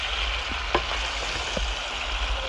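Potatoes being stirred in a pan on the heat: a soft, low sizzle with a few light scraping strokes and brief clicks close by.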